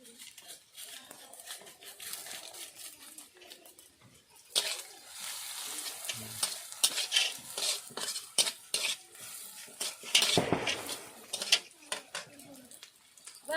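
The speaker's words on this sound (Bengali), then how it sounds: "ভাজা হয়ে গেছে এবার এর মধ্যে পোস্ত দিয়ে দিলাম" Poppy seeds stirred into frying onions in a pan, a soft sizzle at first, then louder metal spatula scrapes and clatter against the pan with bursts of frying, faint voices now and then.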